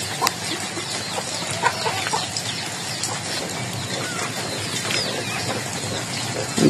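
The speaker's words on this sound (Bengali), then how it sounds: "আমাদের দেশি মুরগি" Native village chickens cluck and chatter in a rural yard on a rainy day, a busy, fairly close flock over a steady wet background hiss, with no speech.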